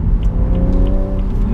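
A BMW M135i, rear-wheel drive, pulls at full throttle on a winter road, its engine droning loud and close in a steady, continuous note with no voices over it.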